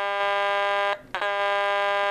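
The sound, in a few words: toy alarm sound from speaker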